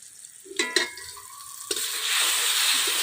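Eggplant and chillies frying in a pan: a few light clinks and knocks of utensil on pan, then a hissing sizzle that grows louder and steadier toward the end.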